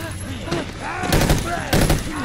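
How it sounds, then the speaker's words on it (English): Bursts of rapid gunfire from the video game The Evil Within 2 crackle in two loud clusters over a background of game sounds and voices. "Gunfire!"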